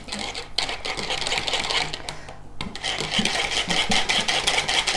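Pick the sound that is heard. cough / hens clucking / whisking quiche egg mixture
whisking quiche egg mixture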